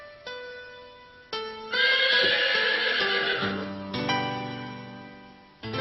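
A horse whinnies loudly several times in close succession, with long harmonic neighs and short snorting bursts, alone with no talk.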